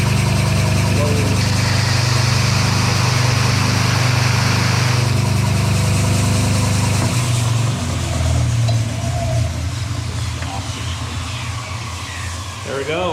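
Woodshop sander running steadily and loudly while a wood edge is pressed against it, a constant machine drone with shifting grinding texture that eases near the end.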